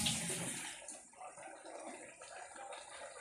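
Water runs steadily from a tap with a soft hissing splash, continuous and fairly quiet.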